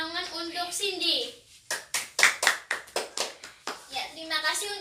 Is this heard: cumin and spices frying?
no